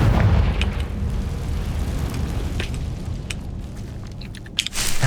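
A Confringo blasting spell in Hogwarts Legacy bursts with a loud, rumbling explosive boom at the start, its low roar decaying slowly over several seconds, with a sharp crackling pop near the end.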